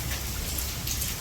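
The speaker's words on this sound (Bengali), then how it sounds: "বাতাস আসে বৃষ্টি সব এদিক থেকে আসে" Rain falling during a storm in a Bangladeshi village in the rainy season, a dense, steady hiss of drops on surfaces, continuous and fairly close throughout the brief moment.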